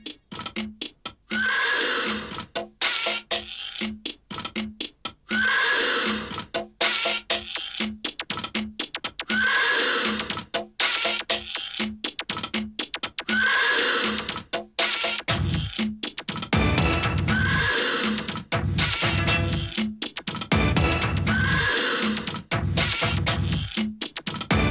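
Viennese Lipizzaner stallions whinny again and again at regular intervals, each loud neigh set against a dense, rhythmic ticking and clattering of welding robots that grows heavier toward the end.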